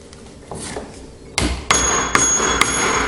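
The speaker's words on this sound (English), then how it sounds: "When going across the grain, you can hit the chisel quite hard." A mallet drives a chisel across the wood grain while cutting a mortise and tenon joint: about four sharp, ringing knocks close by, coming roughly half a second apart after some quieter handling sounds.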